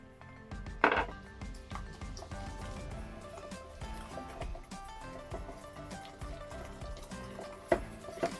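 Cold dashi broth stirred into okonomiyaki batter in a bowl, a steady soft sloshing and scraping with a couple of louder knocks of the utensil against the bowl.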